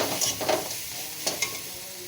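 Sugar being stirred into a chopped banana flower mixture in a pan: several close spatula scrapes and taps over a low sizzle, with no voices.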